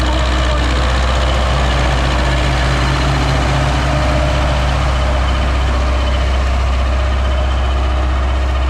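A YuMZ D-240 tractor diesel runs close by with a deep, steady low rumble and a constant heavy drone, loud and unbroken throughout, with no talking.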